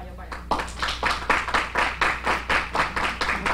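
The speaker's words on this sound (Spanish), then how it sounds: "Recibamos con un fuerte aplauso a la doctora Omaira Caraballo Pagán" An audience welcomes a guest doctor with applause at an online-learning program event, clapping in rhythmic, fairly loud unison bursts of about four per second, close and sustained.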